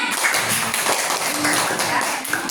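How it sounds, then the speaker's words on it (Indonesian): A class applauding their teacher: a short burst of quick, dense hand claps from a group, close and fairly loud, lasting a couple of seconds with no voices over it. "Tepuk tangan buat saya"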